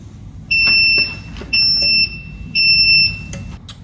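The timer on a sublimation tumbler press gives three loud, sustained electronic beeps in a regular rhythm, with short gaps between them, while heating a 20oz tumbler in a small-business workshop. Faint clicks and handling sounds sit underneath.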